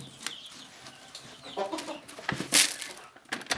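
A hen clucks softly and intermittently amid pecking and scratching noises, with a brief sharp rustle near the middle.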